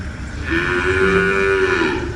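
A single cow lets out a long, loud, drawn-out moo, close by and clear against a quiet background.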